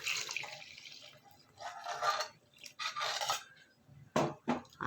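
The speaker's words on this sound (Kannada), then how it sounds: "ಇವಾಗ ಇದಕ್ಕೆ ನಾವು ಎಷ್ಟು ಬೇಕಷ್ಟು ನೀರು ಹಾಕ್ಕೊಂಡು ತೆಳು ಮಾಡ್ಕೊಳ್ಳೋಣ" Water is poured into a pot of jackfruit sambar in a few faint splashy bursts, with brief gaps and a couple of sharp clinks toward the end, quiet and close.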